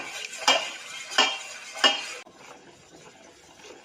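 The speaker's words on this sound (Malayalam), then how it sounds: "പാൽ ഇളക്കി കൊടുക്കാം." Milk being stirred in a saucepan on a gas stove for bread pudding, with three distinct clinks of a spoon against the pan followed by softer scraping and quiet stirring.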